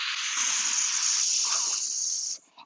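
A person imitates an angry cat's hiss, one long, steady, breathy hiss held for over two seconds before stopping abruptly.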